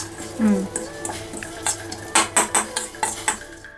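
Ingredients roasting in a pan on low flame for almond puri payasa, a soft sizzle under a rhythmic run of ladle scrapes and clinks against the pan, growing brisker toward the end, no talking.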